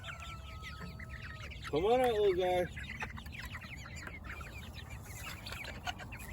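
Frizzle chickens cluck in a backyard coop, with a loud close burst of fowl calls near the middle over steady background bird chatter, while a person speaks.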